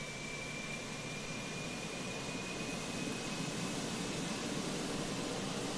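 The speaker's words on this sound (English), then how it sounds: "APU is on and available" A steady whine and broadband rush from an aircraft auxiliary power unit running in a Microsoft Flight Simulator Air Canada Rouge airliner, continuous and even, with a thin high tone sustained throughout and no talk.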